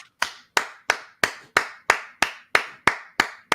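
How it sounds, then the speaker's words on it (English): Ten single hand claps in a slow, even rhythm, each sharp and close with a short decay, alone with no talk. "We're going to get that man some real claps."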